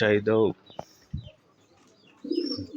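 Domestic pigeons coo softly in short low bursts, with faint chirps and rustling between calls, fairly close by.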